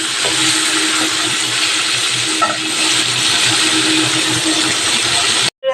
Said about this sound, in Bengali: এখন আমি মাছটা ভেজে নিচ্ছি দেখো মাছটা ভেজে নিচ্ছি